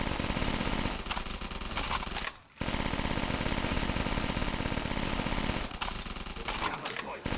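Automatic weapons fire rapidly and without letup in Call of Duty Zombies on the One Window Bathroom map at round 22. The loud, dense volleys drop out for one brief pause, then resume at full intensity.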